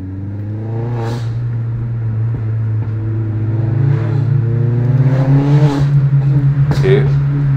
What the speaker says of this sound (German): denn normalerweise kriegst du nicht so einen geilen Klang aus diesen Astra H OPCs